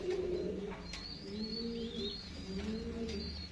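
Domestic pigeons kept as a hobby coo in a low, rolling pattern, several overlapping calls repeating steadily with faint chirps above, close and continuous with no talking.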